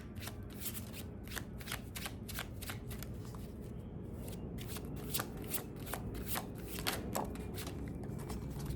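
A deck of tarot cards is shuffled up close, giving a steady run of quick riffling flutters with no talk.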